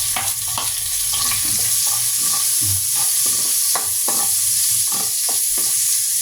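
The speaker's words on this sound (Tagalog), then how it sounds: "Tapos, gisa na natin tong bawang." Garlic sautéing in rendered pork fat for pork sinigang with corn, a bright continuous sizzle under repeated scraping strokes of a utensil against the pan.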